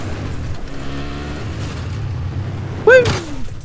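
A vehicle driving and jumping in Battlefield 4, its engine droning steadily at mid distance with a sudden loud thump and rising revs near the end, under faint background game noise.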